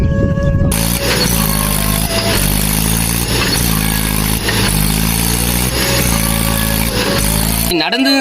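A stuck motorcycle's engine runs loud and close as someone tries to drive it out of a pit, holding a rough steady drone with slight rhythmic surges before cutting off abruptly at the end.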